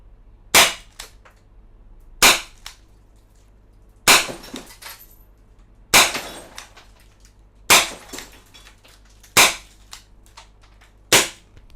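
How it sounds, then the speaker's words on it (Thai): Seven sharp, loud gas airgun shots from a Win Gun 708, fired at bottles about every two seconds, each crack followed by a short clatter of breaking glass, with no talking. "ครับผมยิงทดสอบอีกสักขวด สักขวดนะครับ"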